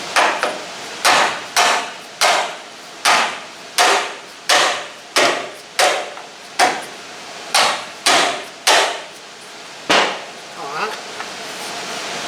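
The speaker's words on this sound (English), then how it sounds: "Glad I was using a rubber hammer and not that one." A rubber hammer repeatedly striking the frame of a 1970 Cougar during body and floor work, about a dozen sharp, evenly spaced blows close by with a short pause before the last few.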